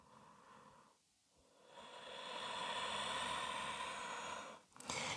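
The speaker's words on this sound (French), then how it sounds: "Encore une profonde respiration ici." Slow, deep breath during a yoga hip-mobility stretch, a soft airy inhale building and sustained close to the microphone, then a brief rustle, quiet and alone.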